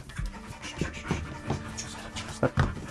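A border collie pants close by while being brushed during grooming, quick rhythmic breaths in uneven bursts, with faint brush scratching and handling noises between them.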